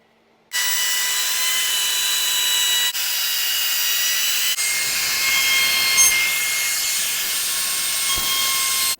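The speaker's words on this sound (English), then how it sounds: "I didn't want to go out in the edges too much with the router" A router bevels the edges of a wooden Flying V guitar body, giving a loud, steady high-pitched whine with brief pauses as the cut continues.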